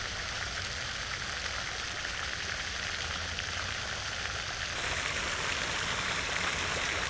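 Pond water fountain splashing in a steady, continuous hiss of falling water, even and unbroken throughout, with no voices.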